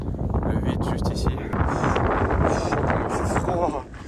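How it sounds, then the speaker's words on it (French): Strong, cold wind on a 3000 m mountain peak buffets the microphone in loud gusty roars, with a voice speaking over it. "Il y a vraiment beaucoup de vent."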